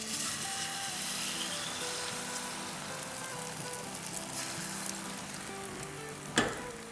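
An egg cooks in about a tablespoon of hot oil in a pan, giving a steady broadband sizzle and crackle that runs the whole time, with one brief louder clatter near the end and no speech.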